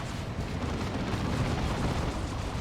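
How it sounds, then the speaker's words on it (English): Assault cannon fire in the Warhammer 40,000 strategy game Dawn of War 2 sounds as a dense, continuous rumble of rapid booms and bursts mixed into battle noise at steady loudness. "They're being torn up by the assault cannon."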